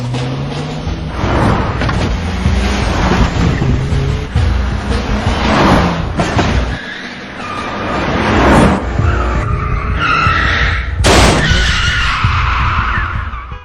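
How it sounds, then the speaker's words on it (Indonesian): Cars skidding during a film car chase near a mall parking lot: sustained loud engine roar with repeated tire squeals and sharp screeches across the whole stretch, with no speech. "mereka langsung mencegat mobil Jang Isu, namun Jang Isu langsung putar arah dan masuk ke parkiran mall"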